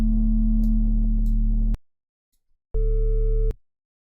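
Deep synthesized sine-wave bass tones from analog-style sine oscillators in Serum, for a deep drum-and-bass bassline: a held note of nearly two seconds, a gap of silence, then a second shorter note with a brighter edge, loud and alone.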